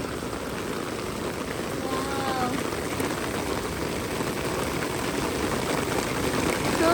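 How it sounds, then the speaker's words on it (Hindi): Heavy, sudden rain pours down in a constant, dense hiss that builds slightly toward the end, while people talk over it nearby. "इतनी जबरदस्त बारिश आई है ना गाइस"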